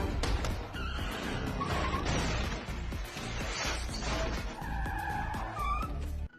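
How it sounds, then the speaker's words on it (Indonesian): Car tires skid and squeal in a video game street chase as the engine roars under them. The squeals come in repeated bursts over a heavy rumble, loud and close, with a sharp thud near the end. "Tekan pedal gas untuk memulai pengejaran di jalan."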